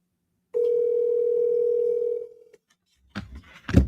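A telephone tone sounds steadily on a call to a hard-to-reach person, holding for about two seconds before cutting off, followed by a couple of short louder bursts of sound near the end.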